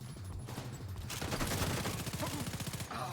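Rapid SMG gunfire from a firefight in The Division 2, a dense rattling burst of shots running through most of the clip with a heavier thumping volley in the middle, loud and close, with no talking.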